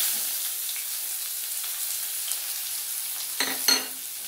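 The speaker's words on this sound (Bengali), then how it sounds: "এবার ওই কড়াই আমি দেবো এবার পেঁয়াজগুলো ওই তেলের মধ্যে।" Onions frying in oil in a kadai, after fish was fried in it, produce a continuous soft sizzle up close. Near the end come two sharper clatters of stirring, and no one speaks.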